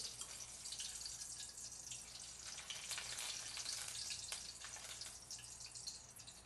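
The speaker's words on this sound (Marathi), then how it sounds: "कचोऱ्यासोबत चटपटीत खाण्यासाठी घ्यायच्या अशा मिरच्या तळून" Green chillies fry in hot oil, a steady crackling sizzle with sharp spitting pops, heard close and even throughout without any voices.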